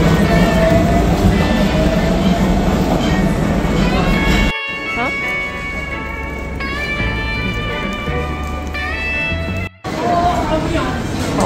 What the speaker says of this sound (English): That's the subway network in Nagoya.